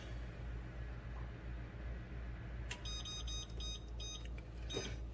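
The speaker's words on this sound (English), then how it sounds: "Set a timer 15 minutes." A kitchen timer is set in a kitchen, giving a quick series of faint, high electronic beeps over a low steady background hum.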